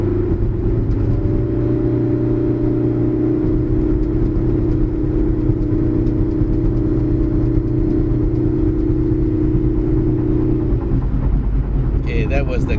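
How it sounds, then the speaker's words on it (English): A 2013 Proton Saga FLX 1.6 runs over rumble strips on a Genting test drive, giving a loud, steady cabin drone with a low throbbing texture that shifts and breaks up near the end. "That is the car over the rumble strips."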